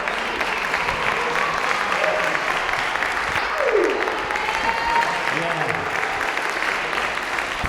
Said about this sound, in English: Round of applause for all the panelists.